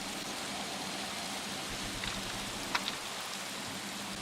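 Steady rain falls in the Minecraft video game, an even hiss of drops on surfaces at a low level, with a couple of faint ticks near the end.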